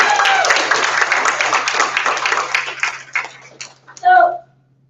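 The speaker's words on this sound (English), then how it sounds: "please join me in giving them all a hoop and holler round of applause" Conference audience applause, a burst of crowd clapping that thins out into scattered individual claps over a few seconds, ending with a short voice cutting in before falling silent.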